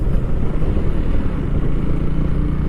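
Steady, loud engine rumble and wind from a Valkyrie motorcycle on a point-of-view ride around Bournemouth, continuous and close with no talking.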